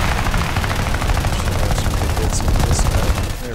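Rapid aircraft machine-gun fire from a fighter in the War Thunder air combat game, a dense continuous rattle under a steady engine roar, loud and sustained throughout.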